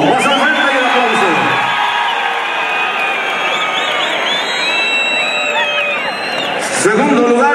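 A rodeo crowd at a bull-riding event in Autlán de la Grana, Jalisco, cheers loudly and steadily, with high whoops and shouted voices rising over the roar before it briefly swells again.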